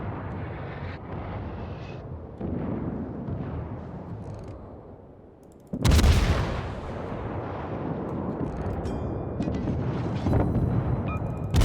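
Naval guns boom in World of Warships during a Tier 3 Kitakami match. Deep rumbling salvos roll out, a loud sharp blast hits midway, and a low engine drone continues underneath.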